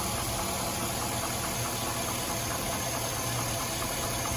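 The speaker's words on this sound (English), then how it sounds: "See, it's shaking and it's not running right." A Ford Powerstroke diesel engine runs rough and shakes, giving a loud, close, uneven knocking rumble with continuous vibration and no let-up.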